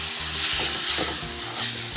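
Blended tomato paste sizzles steadily and close in a hot pan for Kerala fish curry, with a few soft stirring scrapes; no voices.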